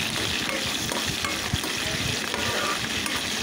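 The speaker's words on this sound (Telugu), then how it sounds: "ఇవన్నీ కూడా నూనెలో బాగా ఫ్రై అయ్యే విధంగా 1-2 నిమిషాల పాటు మనం ఫ్రై చేసుకుందాము." Chopped onion, green chilli and curry leaves frying in hot oil for an Andhra-style brinjal fry, a loud, steady, dense sizzle with stirring scrapes running the whole time, close up and without speech.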